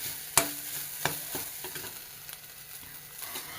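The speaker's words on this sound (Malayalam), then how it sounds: "ഇതൊന്ന് ഇങ്ങനെ ഇളക്കി കൊടുത്തുകൊണ്ടിരിക്കണം" A spoon stirs grated coconut and spices roasting in a pan: a sharp scrape opens, then intermittent scraping strokes over a faint, continuous dry sizzle, close and quiet.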